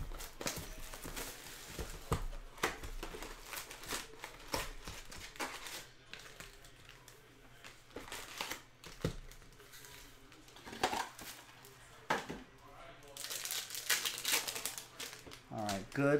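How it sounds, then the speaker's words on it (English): Panini Mosaic basketball trading card packs are torn open at a desk, with crinkling foil, tearing and tapping noises scattered irregularly among quieter stretches and a soft background hum. "While I'm ripping open some packs here"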